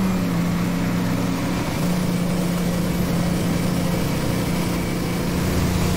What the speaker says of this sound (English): Pumping water.